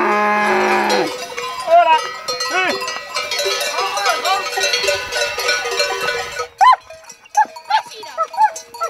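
Cattle with clanging cowbells being driven up a steep, wet trail to an alpine summer pasture, the last cow and helpers arriving; bells ring steadily and close, with a few moos and voices of helpers calling in the background.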